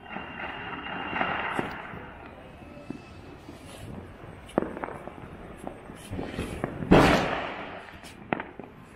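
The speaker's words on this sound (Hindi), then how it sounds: "पटाखेबाजी भी हो रही है।" Diwali firecrackers pop and crackle at a distance over a city, scattered sharp bangs with one louder burst, over a low background hum of the outdoors.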